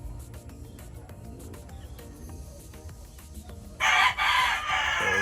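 A rooster crows loudly and close by in a backyard breeding pen, a single long call near the end after a stretch of quieter farmyard background.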